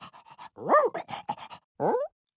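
A cartoon dog pants in quick short puffs, then gives a whiny rising yelp and a final whimper, close and clear with no talk over it.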